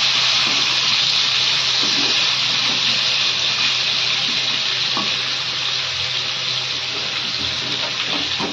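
Running tap water rushes loud and continuous close by while a pan is washed, with faint clinks under the broad spray. No one speaks.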